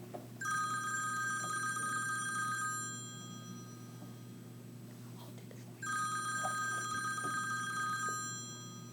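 Electronic telephone ringing, a bright steady warble that sounds in two long bursts separated by a pause, over a constant low hum and faint background talk.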